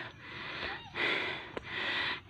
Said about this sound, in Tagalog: Hinihingal kami.